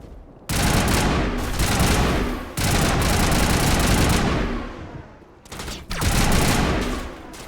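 Video game gunfire from Mass Effect Legendary Edition comes in long, loud, sustained bursts of rapid shots that cut out and resume three times.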